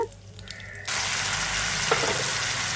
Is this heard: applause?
no